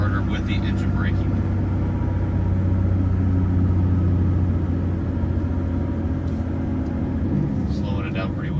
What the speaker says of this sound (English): Retarder with the engine braking.